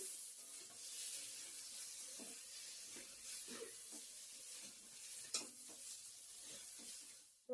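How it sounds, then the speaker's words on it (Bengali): Steady sizzle of eggplant frying in a pan with occasional stirring scrapes and a sharp clink, close and continuous, with no talking. "বেগুন ভাজা করছি এখন"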